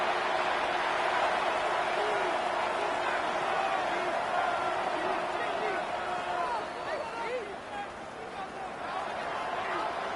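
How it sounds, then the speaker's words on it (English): Large football stadium crowd roars in a steady, dense wall of cheering that swells and dips slightly, with whistles and a voice audible over the noise. "This crowd turning up the decibel level."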